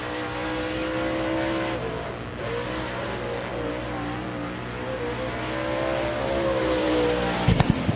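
A race car accelerates hard during qualifying at Thunderhill Raceway in an SAS Racing Series session, its engine note rising through the gears in a loud, sustained drone, with a brief clatter at the end.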